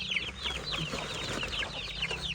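Chickens being caught to raise out at a rice field cluck in a rapid, overlapping chatter close by, with no voices among the short busy calls.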